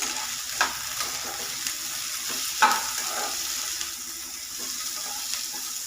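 Food roasts in a hot pan as crispy seasoned flatbread pieces are made. A steady sizzle and hiss runs throughout, with a few soft knocks from stirring. There is no talk.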